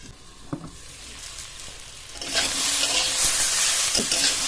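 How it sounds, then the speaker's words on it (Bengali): Vegetables fry on a low flame and get stirred in the pan, a quiet crackle that swells into a loud, steady sizzle partway through, with a few scraping knocks from the stirring. "লো ফ্লেমে সবজিটা ভেজে নেব 5 থেকে 10 মিনিট। একটু নেড়ে চেড়ে দিয়ে নিয়ে"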